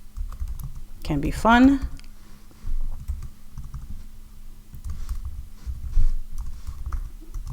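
Someone types HTML on a computer keyboard, soft irregular clusters of key clicks at close range, with a brief stretch of talking near the start.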